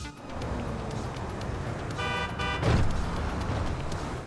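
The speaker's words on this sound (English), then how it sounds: "We begin the mission by walking into oncoming traffic on the Del Perro freeway" Freeway traffic on the Del Perro freeway in GTA 5: a steady roadway rumble of passing cars, with a car horn honking briefly in the middle against the continuous drone.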